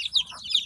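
Mother hens and their chicks in a coop give high, chirpy cheeps and soft clucks in two quick bursts, close by and fairly clear.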